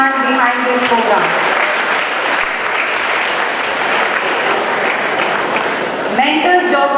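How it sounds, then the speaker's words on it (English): Crowd at a science talent hunt event giving a big round of applause, sustained clapping that fills the room, with a voice speaking briefly at the start and again at the end. "A big round of applause for each and every one behind this program."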